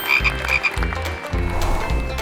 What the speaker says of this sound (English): Look, guys, it's a frog.